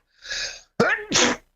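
One close, loud sneeze: a sharp breathy intake, then an explosive burst trailing into a short voiced release.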